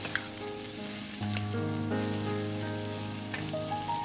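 Small shrimp and cucumber slices sizzle steadily in a hot pan as they are stir-fried, a continuous frying hiss with a few light utensil scrapes and no talking.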